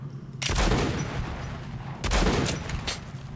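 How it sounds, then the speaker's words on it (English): Quadruple-barrel shotgun fired in the video game Metro Last Light, two heavy booming blasts about a second and a half apart, each trailing into a long rumbling decay. "It's like a fucking quadruple barrel shotgun."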